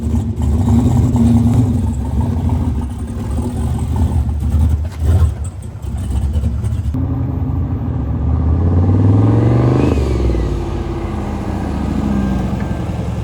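A K-swapped VW Beetle engine rumbles loudly throughout, climbing in a couple of rising revs with mechanical clatter close by.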